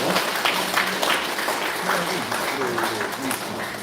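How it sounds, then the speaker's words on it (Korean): A church congregation at a Sunday service in Cheorwon applauds for a member's birthday, a steady, dense patter of clapping from many hands throughout, with some voices mixed in. "우리 한번 축하 박수 한번 드리겠습니다"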